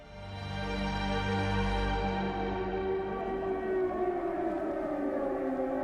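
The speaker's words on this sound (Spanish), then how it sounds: "Conforme empieza el discurso, resuenan las sirenas por Berlín." Air raid sirens wail across Berlin in wartime, a loud sustained drone that holds steady and then starts rising in pitch, filling the whole stretch with no voices over it.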